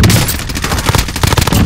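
Battle royale video game gunfight, rapid loud bursts of shots crackling close by in quick succession throughout.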